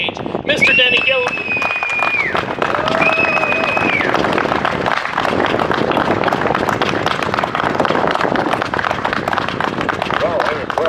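A large outdoor crowd applauds and cheers loudly and steadily as a speaker is welcomed to the stage at a Second Amendment march at the Michigan State Capitol, with a voice carrying over the start.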